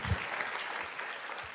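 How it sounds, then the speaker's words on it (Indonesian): Steady applause from a seminar audience honoring TNC and One Vision, dense and even throughout with no break. "tepuk tangan buat TNC dan One Vision"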